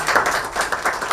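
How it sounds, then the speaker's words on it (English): Scattered applause at an agriculture and AI innovation panel event, a small audience clapping in uneven bursts, moderately loud and fairly close, with no talking over it. "A big round of applause for."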